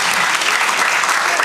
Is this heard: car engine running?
no